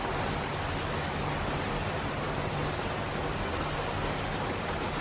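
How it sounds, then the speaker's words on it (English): Heavy rain pours down in Southern California, a dense, steady hiss of downpour without pauses or voices. "I love the rain in Southern California."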